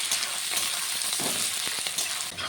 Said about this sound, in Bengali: পেঁয়াজটাকে আমি একটু ভেজে নেব কিছুক্ষণ